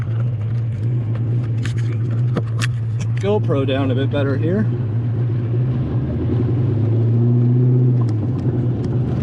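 A 1988 Foxbody Mustang with a 347 stroker engine idling, a steady low rumble running throughout beneath a brief spoken comment, with a few knocks and a slight rise in tone near the end.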